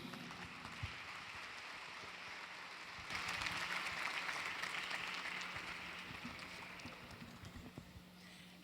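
An audience applauds to welcome a model onto the stage at an Albanian November celebration in New York, steady clapping that grows fuller and louder partway through and then slowly thins, heard from a distance in a large hall.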